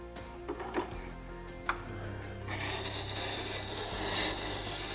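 A woodworking chisel rubbed across a sharpening stone, starting with faint ticks and scrapes and then turning into a steady gritty rasp that grows louder, close by with no talk.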